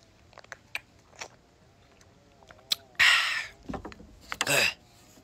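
Close, moist chewing and biting of lilikoi passion fruit pulp, with short wet crunches in bursts between quiet pauses and brief mouth noises.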